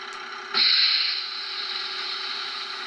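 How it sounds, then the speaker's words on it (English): Tamiya Grand Hauler RC truck sound kit playing a truck air dryer effect: a sudden loud hiss of air bursts out and settles into a steady, softer sustained hiss over a constant electronic hum. "Air dryer."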